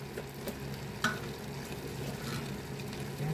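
Hot water goes into a pan of sautéed green peas and garbanzos in tomato sauce, giving a steady close sizzle and bubbling with faint stirring scrapes and a soft knock near the start.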